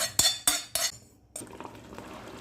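Three quick metal spoon clinks against a pan, then softer scraping as tempering is stirred into a thick spinach curry, close by.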